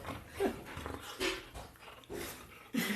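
A dog gives a run of quiet, short whimpering and grumbling vocalizations, several soft bursts close by with small gaps between them and no talking.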